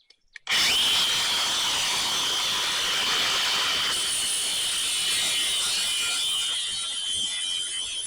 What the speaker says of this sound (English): I have two little divots that I'm going to have to grind down as well.